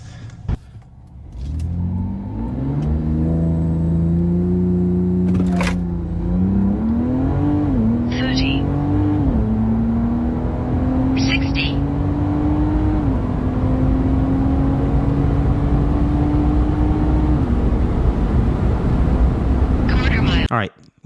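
A supercharged 650+ hp Dodge Charger Hellcat AWD launches from about 3,700 rpm on a brake-held start, engine roaring loud and close with a rising whine and several gear-change dips through a sustained full-throttle run.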